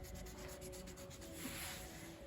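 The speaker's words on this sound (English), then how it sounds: "he is rubbing his head on the camera" An animal rubs its head against a camera, giving a faint, continuous close-up brushing and rubbing sound with soft irregular bumps throughout.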